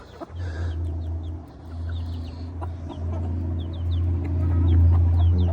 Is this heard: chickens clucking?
yes